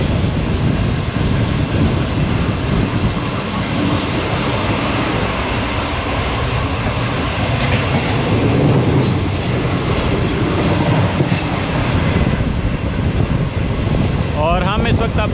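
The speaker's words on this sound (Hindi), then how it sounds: "हम इस वक्त अब यूसुफवाला रेलवे स्टेशन से पास थ्रू कर रहे हैं" Shalimar Express passenger train running through Yusufwala railway station, recorded on board, with a loud continuous rolling roar, rail clatter and a brief squeal near the end.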